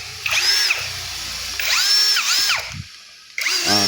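Brushless cordless drill spinning up in bursts, whining motor rising and falling in pitch with trigger squeezes, fairly loud and close, with short pauses between runs.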